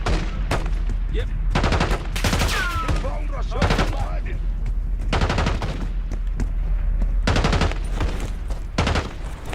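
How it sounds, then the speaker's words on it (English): Gunfire exchange in Call of Duty Black Ops 6: loud, sustained bursts of automatic weapon fire and single shots repeat through the clip, with brief pauses and voice chatter layered over the shooting. "Exchanging fire!"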